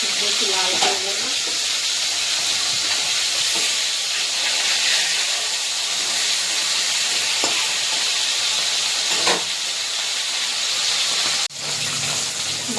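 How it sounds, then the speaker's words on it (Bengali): Pieces of catla fish fry in hot oil with a steady, loud hiss and sizzle that runs throughout, broken by a few faint clicks of a spatula. "মাছটাকে নিচে দিয়েছিলাম, একটু করে একটু হালকা লালচে করে ভেজে নেবো।"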